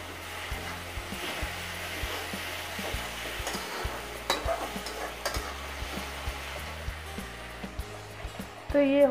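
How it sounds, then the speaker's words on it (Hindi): Garlic and ginger fry in a pan while being stirred, giving a steady close sizzle with scraping stir sounds, and a voice talks over it throughout. "लहसुन को इतना पकाएंगे कि इसका कच्चापन निकल जाए।"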